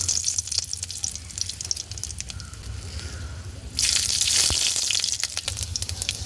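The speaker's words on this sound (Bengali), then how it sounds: "প্রথমেই কড়াইতে তেল গরম করে ফোড়নের জন্য দিয়ে দিচ্ছি শুকনো লঙ্কা ও 5 ফোড়ন" Dry red chillies and Bengali five-spice (panch phoron) crackle and sizzle in hot oil in a kadai, a steady hiss with scattered pops that swells louder partway through, no voices.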